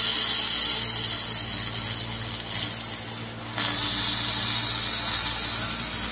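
Laser cleaning of a Porsche connecting rod, a loud, hissy broadband crackle and roar with a steady low hum underneath, dipping briefly midway before returning at full intensity.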